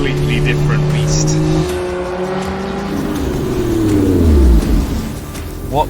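A Lotus Emira sports car is driven hard through corners, its engine note holding steady, then rising and falling with shifts and revs, loud and close, as someone talks over it.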